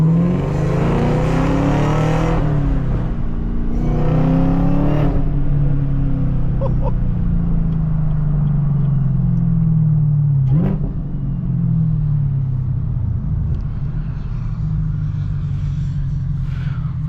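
A manual Chevrolet Camaro ZL1 drives along with a deep, loud engine drone that rises and falls through revs and gear changes, heard steadily from inside the car.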